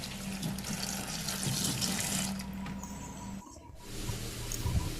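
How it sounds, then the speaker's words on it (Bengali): Tap water runs steadily into a sink while leaves are rinsed under it, a continuous close splashing hiss that briefly breaks off and then resumes. "পাতাটা আমি ভালোভাবে ধুয়ে পরিষ্কার করে নেব।"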